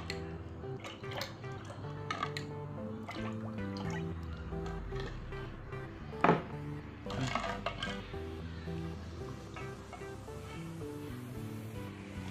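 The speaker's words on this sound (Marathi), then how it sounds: "ग्लास भरून घेऊ लस्सीने आपण." Handi lassi poured into a glass, soft liquid gurgles and drips with small clinks and splashes, fairly quiet and close, no talking.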